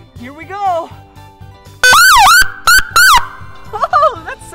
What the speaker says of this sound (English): what else is also used to let everyone know that there's an emergency is the siren